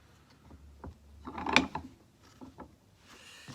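Metal vise being tightened by hand to clamp a wooden beard comb, a few close clicks and clunks of the screw mechanism with a louder clank midway, otherwise quiet.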